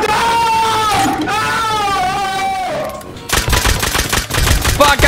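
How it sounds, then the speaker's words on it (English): Nail gun shots in the Rust video game, a rapid loud rattling burst of repeated hits in the second half, preceded by a wailing, moaning voice. "they're shooting me with nails, bro!"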